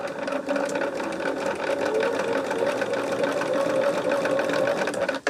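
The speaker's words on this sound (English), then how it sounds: "I'm just going to sew all the way across it." A sewing machine runs continuously at a steady clip, close and loud, stitching handles across a quilted bag for about five seconds before stopping.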